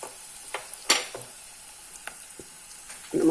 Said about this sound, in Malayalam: ഇനി സവാള ഇടാം